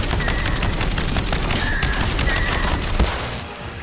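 Rapid, continuous gunfire from the Endgame video game, a steady dense fusillade of shots that holds loud for most of the clip and eases slightly near the end.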